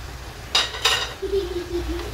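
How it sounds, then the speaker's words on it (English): Stirring onions, garlic and dania stalks in a pot while making katlesi za nyama: two sharp clinks of a utensil against the pot, then a soft scraping stir over a faint background hum. "We stir this and let it simmer for another minute"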